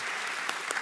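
Applause at a civic leadership academy graduation ceremony, a steady wash of many hands clapping from a crowd, with a few louder claps standing out.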